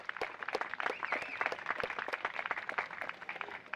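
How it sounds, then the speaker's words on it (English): Audience applause at the UPMC Health Plan Groft Charity Classic, a steady patter of many hands clapping at moderate distance, fairly quiet and continuous throughout. "a quick round of applause for Brian Danahy and his staff here at the CCY"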